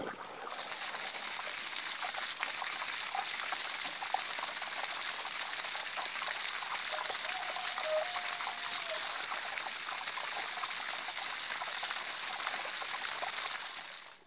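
Water rushing steadily through a VEVOR sand filter system on a farm pond during rinsing, a constant hissing, bubbling flow that holds evenly throughout, fairly quiet and with no voices.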